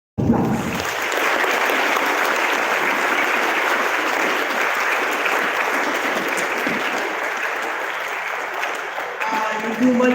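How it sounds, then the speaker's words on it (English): A large school audience gives a loud, sustained round of applause welcoming grade 12 students onto the stage, dense clapping starting abruptly and holding steady for about ten seconds. "Please welcome them with a huge round of applause."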